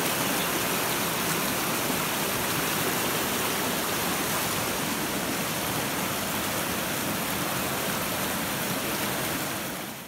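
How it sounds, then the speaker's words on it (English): River rapids rush in a steady, loud, unbroken roar that fills the whole stretch, close by and with no voices over it. "Trying to get your view of the river here in the rapids."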